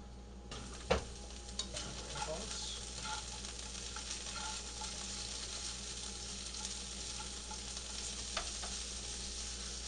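Red peppers sear in a hot pan with a faint, steady sizzle, broken by a few soft clanks and scraping sounds as they are stirred and tossed.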